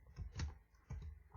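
Keystrokes on a computer keyboard during design work: a few separate, close taps spread across a second and a half, fairly quiet, with no one talking.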